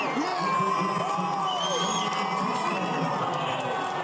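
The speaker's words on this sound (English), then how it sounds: "In public, to greet the crowd from a balcony, he received a big ovation." A large crowd cheers and shouts for the president-elect appearing on a balcony, a sustained roar of voices with whoops rising above it, heard from some distance.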